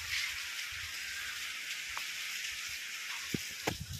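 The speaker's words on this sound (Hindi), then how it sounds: "देखो कितनी बारिश हो रही है" Rain falls hard and steadily outdoors, making a dense hiss with a few louder drips and splashes near the end. Nobody talks.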